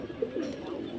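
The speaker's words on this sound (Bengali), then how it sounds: "পায়রাগুলি জল খাবে বলে সব বসে আছে" Pigeons sitting and waiting for water give soft, low coos, a few faint murmuring calls over quiet background.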